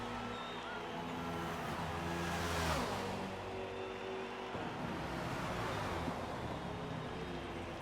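Racing cars, a Mercedes and an Aston Martin, in a sim racing game at Daytona, engines droning steadily with shifting pitch as they accelerate and change gear, a continuous close roar with no talk.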